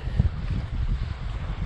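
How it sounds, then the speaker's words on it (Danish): Wind buffets the microphone while fishing for sea trout by open water, a steady low rumbling roar with gusty swells and no one speaking. "der er god vind"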